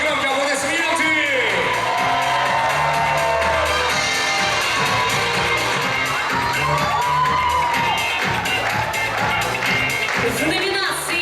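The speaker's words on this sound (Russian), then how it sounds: "Друзья, громкие аплодисменты!" A loud crowd at an award ceremony cheers, shouts and whoops continuously at close range, mixed with amplified voices and music.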